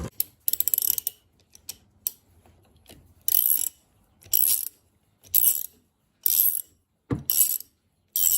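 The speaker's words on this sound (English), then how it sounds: "Now I want to pull the flange off of the pinion shaft. And to do that, I'm going to use this wheel puller and these bolts." A wheel puller with bolts is worked on the differential pinion shaft of a 1964 MGB to pull off the flange, producing repeated sharp metallic ratcheting clicks in short bursts with pauses between them and no talking.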